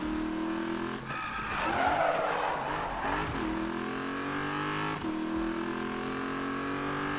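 Race car in Need for Speed 2015 with a loud, roaring engine and a sustained tire skid, revs rising and falling throughout.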